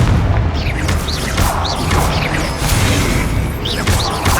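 Confringo blasting spells exploding in the Hogwarts Legacy video game, a loud, dense run of repeated booming blasts with whooshing magical streaks and crackling debris, continuous and close without any talking.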